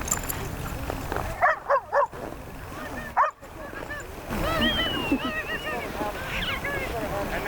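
Ski patrol avalanche search dogs bark in a snowy training area, several sharp yips and barks in short bursts with pauses, then a busier stretch of excited barking and whining over outdoor background noise.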